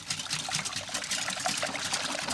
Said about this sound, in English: And then the vital part, whisk like fury.